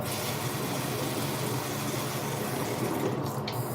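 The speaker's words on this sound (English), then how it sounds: "A tiny bit of warm water in here." Warm water flows steadily into a container, a continuous soft splashing and trickling close by with no other sounds.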